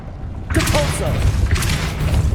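Depulso, a spell in Hogwarts Legacy, bursts out suddenly after a brief quiet, a loud thumping boom with a crackling swell, followed by a second surge a moment later.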